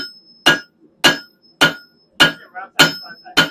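Six heavy hammer blows with the flat side of a hammer, forging mild steel for a fire poker, at a steady, unhurried rhythm, each a sharp ringing strike, close and loud.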